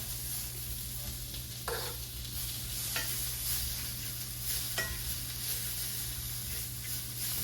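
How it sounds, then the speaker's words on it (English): Food sizzling in a skillet, a steady close hiss running throughout with a few faint clinks and scrapes from working the pan. "Working this skillet."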